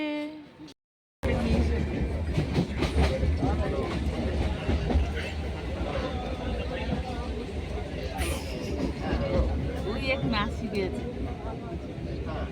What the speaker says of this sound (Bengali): ট্রেন ঢুকে গেছে ট্রেন ঢুকে গেছে